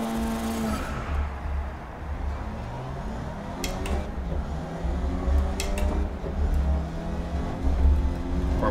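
A Formula 1 style race car engine revs and drones in the racing video game GRID, a continuous loud whine rising and falling through gear changes, heard alone without talk.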